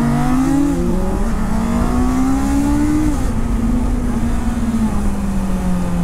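A Kawasaki Z900 or Honda CBR 650R superbike held on the throttle during a street race, its engine droning loud and close with a rising, shifting pitch and steady wind roar.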